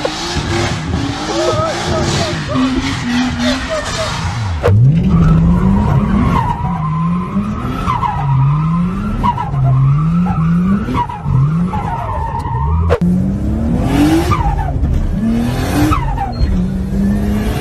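A Nissan Skyline R33 street drift car drifting, its engine revving up and down in repeated surges while tires screech and skid loudly, with brief cuts between passes and voices talking underneath.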